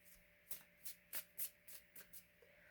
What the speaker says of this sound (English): this is a live shuffle. We are using the Macabre Tarot deck.